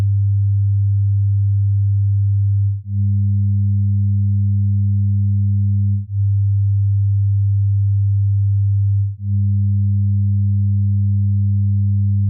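Steady 100 Hz sine tone that switches back and forth between a pure version and one carrying 5% second harmonic distortion at 200 Hz, changing about every three seconds across four sections, loud and alone.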